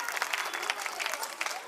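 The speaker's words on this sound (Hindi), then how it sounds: "जोरदार तालियों, आवाज रुकनी नहीं चाहिए भाई" Applause from the audience at a school annual day: brief, moderately distant clapping from a crowd, even and continuous with slight rises in intensity.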